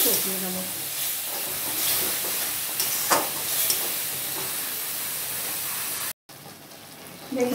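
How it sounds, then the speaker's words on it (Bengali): Prawns frying in a pan with a paste of poppy seed and cashew, giving a loud, steady sizzle and hiss throughout. It cuts out for a moment near the end, then resumes. "পোস্ত আর কাজু বাদামটা যে বেটে রেখেছিলাম তার এই সামান্য পরিমাণে একটু জল দিয়ে মশলাটাকে আমি চিংড়ি মাছ দিয়ে ভালো করে কষিয়ে নেব।"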